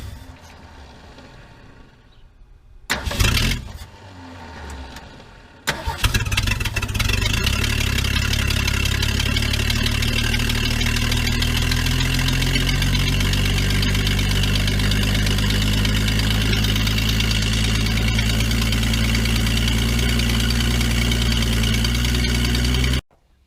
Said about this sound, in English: I feel like I'm having to give it gas to keep it running.